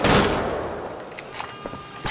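Gunfire in Wolfenstein The Old Blood, a loud burst of shots at the start that decays into reverberant rumble, followed by a few sharper, lighter impacts.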